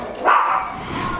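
A single short dog bark, sharp and fairly close, rising briefly over a steady background hum, with no talking.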